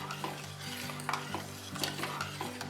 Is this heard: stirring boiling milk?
yes